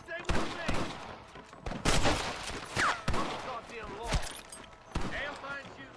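Western revolver and rifle gunfire in Red Dead Redemption cracks out as a series of sharp, separate shots at irregular intervals, with brief voices in between.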